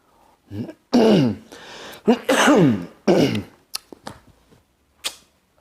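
A person clears their throat and coughs several times in quick, harsh bursts, loud and close, with short pauses between.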